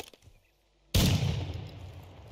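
12-gauge shotgun firing in Warzone 2.0, a single sudden loud blast after a near-silent moment, followed by a long rumbling decay and lingering noise.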